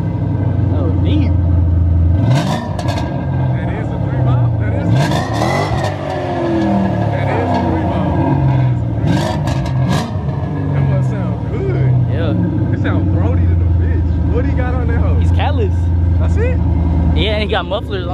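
A car with a catless exhaust fitted with mufflers revs in deep, rumbling surges, loud and close, while people talk over it throughout.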